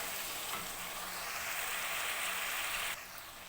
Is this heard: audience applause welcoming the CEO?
no